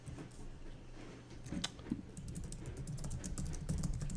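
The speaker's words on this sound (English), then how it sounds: "Everyone can hear me typing" Rapid clicking of keys on a computer keyboard, steady and close, continuing throughout with a low hum underneath and no speech.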